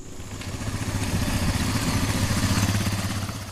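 A motorbike rides over sandy tracks and rough terrain, its engine a steady, close, rumbling drone with a clattering pulse that swells slightly and holds throughout, with no talking.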